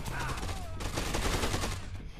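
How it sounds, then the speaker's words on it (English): Enemy gunfire in the video game Dead Rising 2, rapid bursts of shots rattling continuously over the whole moment, loud and close, with a person talking faintly under it. "Oh god, they're shooting!"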